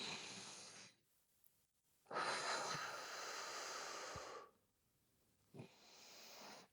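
A person breathes deeply during an abdominal exercise, with long audible breaths alternating between inhale and exhale and short quiet pauses between them.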